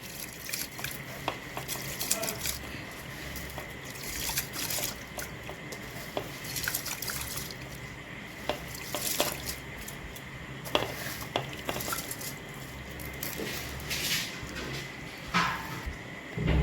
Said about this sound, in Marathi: त्यानंतर तांदूळ टाकायचे त्याच्यात।